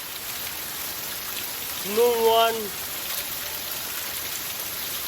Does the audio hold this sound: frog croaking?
no